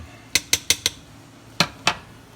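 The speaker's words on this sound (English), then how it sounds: "Stir it up a little bit." Chicken noodle soup stirred in a pot with a utensil: four quick clinks against the pot side, a pause, then two more knocks, close and clear with no talking.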